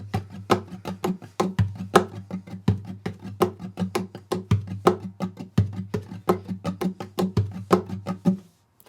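A steady percussive beat tapped on a guitar body, with low thumps and sharp slaps alternating in a repeating groove, close and clear, then stopping.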